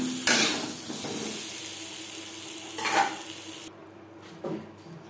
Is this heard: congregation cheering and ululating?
no